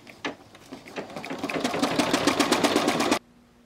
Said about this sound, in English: And now we'll continue stitching.